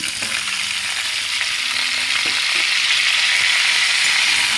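Cut cauliflower and potato pieces hit hot oil in a pan and sizzle loudly and steadily, with a few scraping stirs and clinks of a utensil against the pan throughout, close and without talk.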